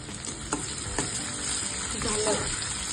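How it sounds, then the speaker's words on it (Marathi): Sliced onion with ginger-garlic paste sizzles steadily in hot oil in a pan, with a few soft spoon knocks as it is stirred, close by and without voices. "लालसर होईपर्यंत परतून घ्यायचं।"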